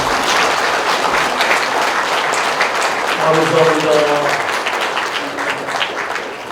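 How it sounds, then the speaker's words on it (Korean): An audience at a Buddhist monk's book launch claps in thanks, a loud continuous crowd of hands that runs the whole stretch while a voice speaks briefly over it. "우리 모두 감사의 박수를 한번 쳐드리겠습니다."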